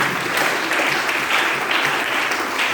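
A church congregation applauds in praise of Christ, with steady, dense clapping throughout.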